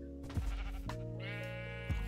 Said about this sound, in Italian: Ma c'è una pecora sul cavallo zombie,